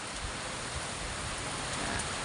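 Heavy rain driven by strong wind pours down steadily in a garden with tomato plants, a dense, continuous hiss filling the whole clip at a constant level with no voices.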